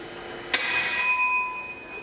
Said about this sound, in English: The bell rings and it's departure.